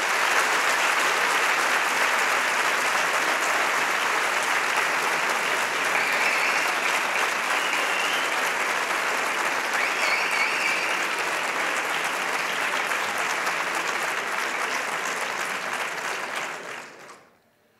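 Sustained applause from a concert audience welcoming the children's band of La Veracruz, steady and dense for about seventeen seconds before fading out abruptly at the end.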